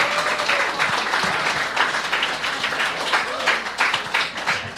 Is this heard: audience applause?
yes